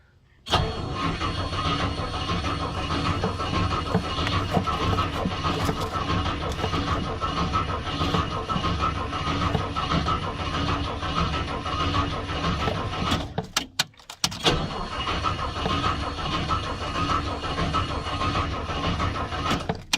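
A Rolls-Royce engine with SU carburetors, long dead, cranks continuously with a rhythmic starter chug, pauses briefly, then cranks again without catching; loud and close throughout.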